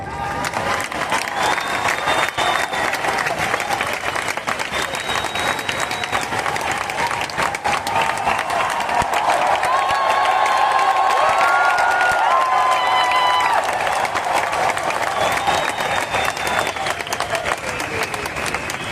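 Sustained applause from a large audience at a marketing company's motivational talk, dense and steady clapping for nearly twenty seconds with crowd murmur and a few cheers mixed in.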